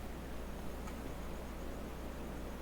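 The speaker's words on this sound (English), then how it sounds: "Kind of sounds like water." A soft, continuous watery wash in Hyper Light Drifter, a gentle noise-like hiss that stays level and fairly quiet, with no speech over it.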